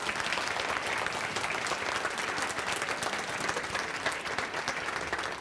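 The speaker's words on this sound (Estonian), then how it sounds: "Suur aplaus teile, aitäh!" Sustained, loud applause from a leadership conference audience, an even wash of clapping that holds steady from start to finish.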